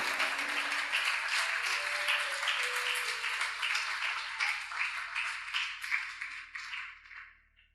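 A church congregation applauds and cheers during a morning sermon, with steady crowd clapping filling the room and then gradually thinning out and fading away.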